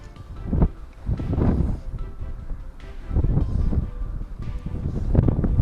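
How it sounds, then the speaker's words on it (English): Strong wind buffets the microphone outdoors at a fishing venue, with steady low roaring gusts that swell and fade over the whole stretch, loud and close. "This wind is awful."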